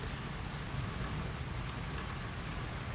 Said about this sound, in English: Nothing like a Florida storm